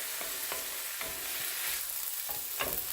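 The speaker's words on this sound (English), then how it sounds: "Everything mixed around there real good. Onions and the dandelion greens." Onions and dandelion greens stirred in a hot skillet, giving a continuous loud sizzle broken by repeated quick scraping strokes of a utensil in an uneven rhythm.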